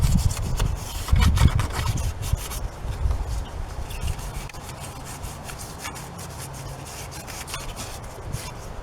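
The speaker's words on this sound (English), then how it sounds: "I'm gonna sand all this down just to rough up the surface" Sandpaper is rubbed by hand over the body panels of a Chevrolet Tahoe to rough the surface for paint, giving close, repeated scratchy strokes in an uneven rhythm that grow softer after the first few seconds.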